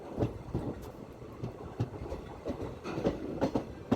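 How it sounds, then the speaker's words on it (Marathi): A WDP-4D diesel locomotive hauling the Maharashtra Express rolls past at a moderate distance, wheels beating out a rhythmic clickety-clack over the rails under a low diesel rumble. "महाराष्ट्र एक्सप्रेसला आज लीड करतोय W D P four D locomotive बघू शकताय"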